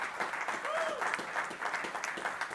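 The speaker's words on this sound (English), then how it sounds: "let's give a big shout out and applause to this panel." An audience applauds a parenting and shalom bayit panel, steady close clapping that keeps an even texture throughout with no voices standing out.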